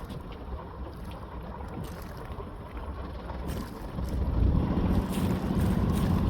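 A boat pulls away from a fish dock on the Grimsby–Wells-next-the-Sea passage, with a steady engine rumble and wind noise that grow louder as it gets under way.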